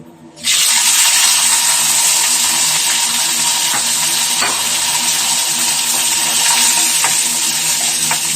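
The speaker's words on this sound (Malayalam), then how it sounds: "കടുക് ഒന്ന് പൊട്ടി വരട്ടെ കടുക് പൊട്ടി വന്നാൽ" Loud, steady crackling sizzle of mustard seeds popping in hot oil, with sharp scattered pops and faint clicks throughout, close up and without talk.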